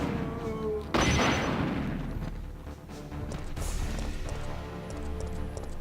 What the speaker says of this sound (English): Yeah, I'm wasting rocket launcher shots, but I'm not really bothered